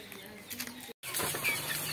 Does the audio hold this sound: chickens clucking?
yes